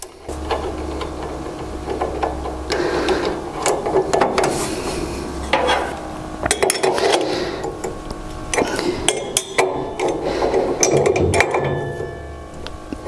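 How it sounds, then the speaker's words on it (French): A bolt being put back and tightened, close irregular metallic scraping, rattling and grinding in uneven bursts, with no talking. "Remettre le boulon."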